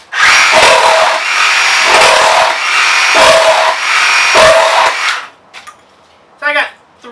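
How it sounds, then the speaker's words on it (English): A DeWalt cordless reciprocating saw cuts loudly and close, four buzzing cuts in quick succession with brief dips between them, then stops, followed by a short clattering rattle. "Been using this DeWalt recip saw for quite a while now."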